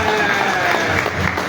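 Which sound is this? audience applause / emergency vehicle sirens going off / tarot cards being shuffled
audience applause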